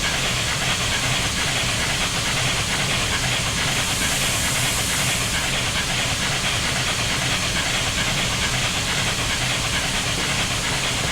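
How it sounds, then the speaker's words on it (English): Live steam injector on a Union Pacific FEF-3 steam locomotive in Train Simulator gives a loud, constant broadband hiss of rushing steam, steady and unbroken throughout with no voices. "So here we've got our water valve and live steam injector."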